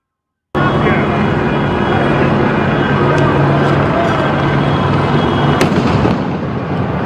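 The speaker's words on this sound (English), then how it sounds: "Fireworks." Fireworks crackle and pop during street unrest in Los Angeles, a loud, dense burst of sharp bangs that begins abruptly and continues without pause, with scattered louder reports standing out.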